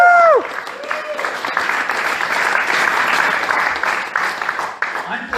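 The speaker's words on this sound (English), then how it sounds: "Can we give our candidates a round of applause?" Audience applause for candidates at a Libertarian Party of King County event in Seattle, a steady, full crowd clapping after a short spoken moment at the start, continuing loudly before easing at the end.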